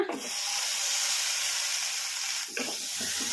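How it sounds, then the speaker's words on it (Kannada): Long-cut tomato slices going into a kadai to dry-fry for a chutney produce a steady loud hiss like steam, broken by a brief dip and a few soft knocks near the end. "ಈಗ ಇವನ್ನ ಕಡಾಯಿಗೆ ಹಾಕಿ ಫ್ರೈ ಮಾಡ್ಕೊಂಬಿಡೋಣ"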